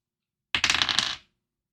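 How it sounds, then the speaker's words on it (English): A single die for a Call of Cthulhu tabletop game rattles and tumbles across a hard surface, a short clattering burst of about half a second that stops abruptly, close and alone. "I just rolled 1 dice there."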